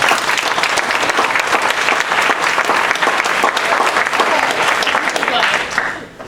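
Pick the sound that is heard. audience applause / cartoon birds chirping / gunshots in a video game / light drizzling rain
audience applause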